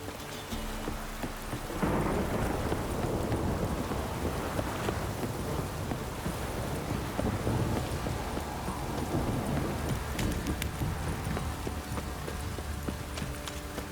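Steady rain with rumbling thunder in The Witcher 3 on PS5, a dense continuous downpour that swells after the first two seconds and stays loud, with low thunder rolling beneath and no talk.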